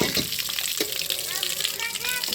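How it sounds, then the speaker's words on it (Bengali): Hog plums (amra) get washed in water: splashing and sloshing with rubbing noises, close and continuous, with a voice faintly audible underneath. "আমরাগুলো ধুয়ে নিচ্ছি ভালো করে"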